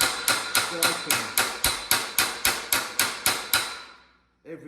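Steel hammer strikes on a metal dolly planishing a weld: thirteen evenly spaced, ringing metallic blows close up, each decaying quickly, then a short pause and a final softer knock.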